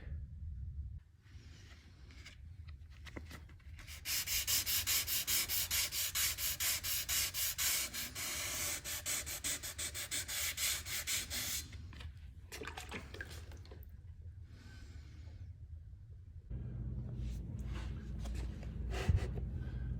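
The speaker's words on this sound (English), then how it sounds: "after I do some wet sanding with 320" Wet sanding of a Volkswagen New Beetle wheel with 320-grit sandpaper: quick, close rhythmic rubbing strokes with a wet, gritty scrape, starting and stopping with short pauses between bursts.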